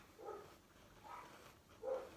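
Neighbourhood dogs barking in the distance, three faint separate bursts spaced about a second apart against quiet room tone.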